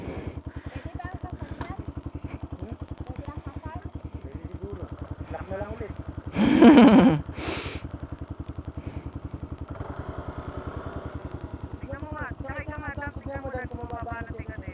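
Off-road motorcycle idling up close at an adventure park trail, a steady rapid mechanical throb running throughout, with a brief louder burst midway and people talking over it.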